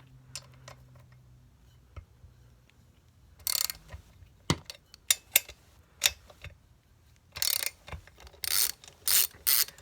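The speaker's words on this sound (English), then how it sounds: "And then we're just gonna loosen the head bolts." A ratchet works on the cylinder head bolts of a Tail Gator generator, with short bursts of quick clicking strokes separated by pauses and knocks, close and fairly quiet with no talk.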